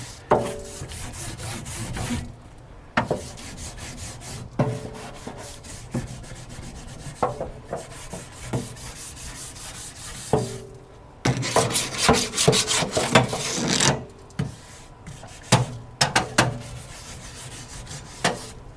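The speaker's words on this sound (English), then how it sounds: "Give that a last little scrub here." A wire brush scrubbing a hot grill grate set directly over coals, giving irregular bursts of harsh scraping strokes separated by short pauses, close and moderately loud.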